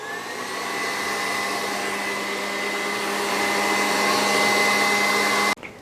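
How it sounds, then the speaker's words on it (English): An electric mixer whips egg whites on high speed for low-carb breadcrumbs, a steady loud whirring whine that rises slightly in intensity before stopping abruptly. "So I'm gonna go ahead and put this on high now and mix this."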